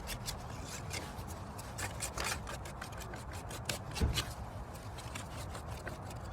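Quiet, steady rasping strokes of a hand tool scraping across stone, repeating in an even back-and-forth rhythm.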